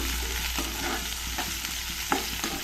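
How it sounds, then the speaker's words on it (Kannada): Green and dry chillies sautéing in a pan with onion, a steady low sizzle under light stirring scrapes, close and continuous, with one sharper clink near the end. "ಒಂದೆರಡು ಒಣ ಮೆಣಸಿನ್ಕಾಯಿ ಸೇರಿಸ್ಕೊಂಡಿದ್ದೀನಿ ಎರಡನ್ನೂ ಬಳಸೋದು ಒಂದು ಸ್ವಲ್ಪ ಟೇಸ್ಟ್ ಸ್ವಲ್ಪ ಡಿಫ್ರೆಂಟಾಗಿ ಚೆನ್ನಾಗಿರುತ್ತೆ ಇದನ್ನು ಸ್ವಲ್ಪ ಬಾಡಿಸ್ಕೊಳ್ಳೋಣ"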